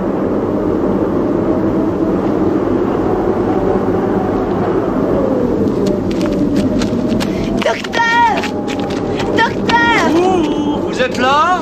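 A rough spaceship landing effect from a Doctor Who audio drama: a loud, continuous rumbling drone gives way to warbling, sweeping electronic tones that rise and fall toward the end.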